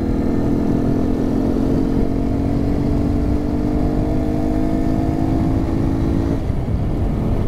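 A 100cc Pop motorcycle engine drones steadily close up, with a rough, rumbling roar and jolting noise from a potholed road, no talking.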